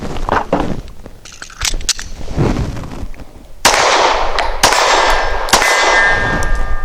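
Two loud, sharp pistol shots from a Steyr S9-A1 firing light 90–94 grain ammunition, each a hard crack with a ringing tail, the second about a second after the first, preceded by quieter handling clatter.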